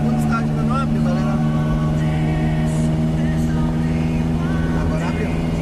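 A 1988 Chevette SL engine revs hard and steadily, its carburetor's second stage being tested, with a loud sustained drone and a voice talking over it.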